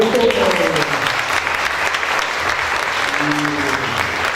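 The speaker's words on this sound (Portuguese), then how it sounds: "Um aplauso para a Adriana Couto." Audience at the FLIM 2017 literary festival panel applauds Adriana Couto, a sustained, even burst of many hands clapping in a hall, loud and dense, with faint voices briefly showing beneath.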